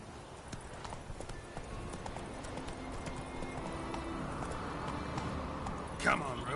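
Roach the horse gallops in The Witcher 3, steady clip-clop hoofbeats running throughout under ambient game sound, with a brief sharper burst near the end and someone speaking over it.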